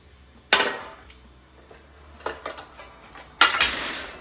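Pans being handled in a kitchen: a sharp metallic clank, a few lighter knocks and rattles, then another loud clatter of cookware, close and with no talk.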